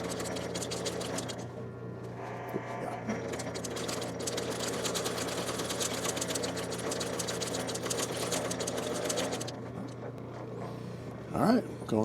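A sewing machine stitches forward, then reverses for a few stitches to lock the seam. The motor gives a close, steady mechanical whir that runs almost continuously and stops briefly near the end.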